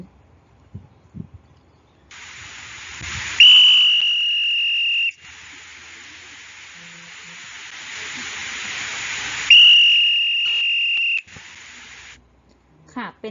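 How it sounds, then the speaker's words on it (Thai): Two long, shrill whistle blasts, each holding a steady high pitch for a couple of seconds, separated by a hissing lull, loud and close. "เสียงของนกหวีดนะคะ"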